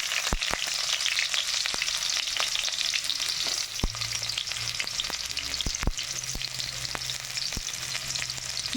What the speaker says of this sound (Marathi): तेल गरम झालं की मी कांदा टाकते याच्यामध्ये